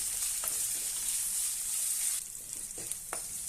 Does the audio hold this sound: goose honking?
no